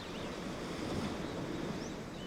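Sea waves wash steadily under gusting wind on the coast at Miri, Malaysia, a soft, continuous rushing surf heard alone with faint distant bird-like tones.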